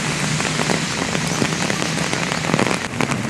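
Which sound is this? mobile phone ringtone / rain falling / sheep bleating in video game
rain falling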